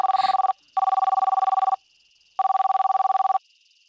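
A phone ringback tone sounds during an outgoing call: three bursts of ringing separated by short silences, clear and alone without any voices.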